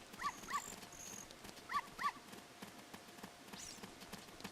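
A white dog in the video game Zelda: Ocarina of Time, giving a few short, high barks in pairs over a busy game background of footsteps and ambient noise.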